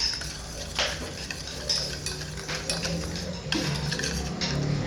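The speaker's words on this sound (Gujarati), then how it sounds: "હાલો હવે આપણે આને એને બધી મિક્સ કરી દઈએ." A utensil stirs gram flour (besan) batter for khandvi in a pot, making soft scraping and clinking against the metal. Quiet kitchen noise runs underneath.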